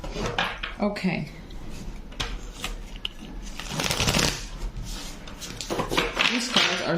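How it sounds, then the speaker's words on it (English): Tarot cards are shuffled by hand in close, papery riffles and slides that come in bursts over several seconds, with a voice speaking in between. "These cards are so complicated to shuffle."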